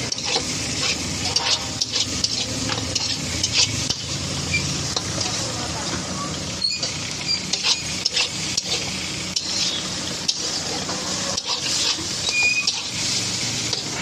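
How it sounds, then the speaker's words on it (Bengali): Greens sizzle steadily in a hot pan, with a continuous crackling hiss and occasional scraping as they are stirred. "আর এদিকে রান্না হচ্ছে শাক।"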